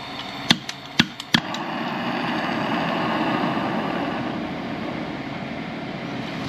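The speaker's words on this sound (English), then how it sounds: "So I got this torch here, I'm just gonna turn it on super low." A blow torch set to a super low flame hisses with a steady, close roar after a few sharp clicks at ignition, used on a wheel bearing hub of a Dodge Dakota.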